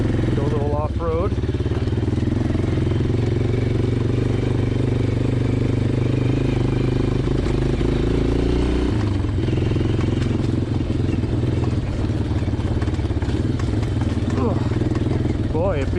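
A 1996 Yamaha Kodiak 400 4x4 ATV engine rumbles loud and close while riding off-road through mud, its pitch shifting as the throttle changes, with someone talking over it.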